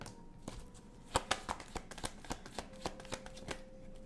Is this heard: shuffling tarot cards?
yes